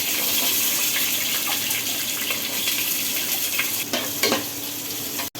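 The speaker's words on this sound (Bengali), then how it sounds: "তেল ছিটবে না পেঁয়াজটা তাড়াতাড়ি নরম হয়ে যাবে" Onions frying in hot oil in a pan give a steady, dense sizzle throughout, with a few louder crackles and stirring scrapes near the end.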